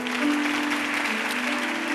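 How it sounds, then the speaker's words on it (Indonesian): Brief, faint clapping from a church congregation during a sermon service, spread steadily over a low, constant hum with no voices. "Berikan tepuk tangan untuk Tuhan."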